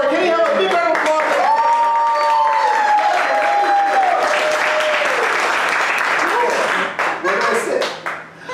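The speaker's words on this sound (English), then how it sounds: "Can you have a big round of applause?" Comedy show audience applauding loudly and steadily for about seven seconds, with cheering voices and whoops over the clapping before it fades near the end.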